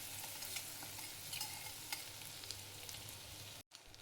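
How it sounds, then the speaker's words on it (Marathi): Chopped garlic frying in oil in a pan for a corn chaat, a steady close sizzle with light stirring scrapes throughout and a brief dropout near the end. "लसण तेलामध्ये भाजून घ्यायचं आहे"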